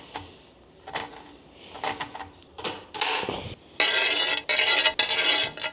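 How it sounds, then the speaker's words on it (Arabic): Potatoes and onions being cut quickly by hand in a restaurant kitchen: a busy run of rapid, close knife clatter and scraping that grows denser and louder toward the end, with no talking. "شوف سرعه تقطيع بطاطا بصله"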